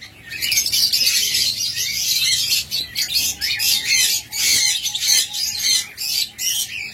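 Blue opaline pet birds kept as a pair for sale call continuously, a dense flock-like stream of shrill chirps and squawks close by, with no talking.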